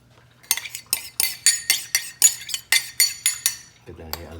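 Utensil stirring batter in a bowl for fish and chips, about a dozen regular clinking scrapes in a steady rhythm, close and distinct, ending with a brief voice.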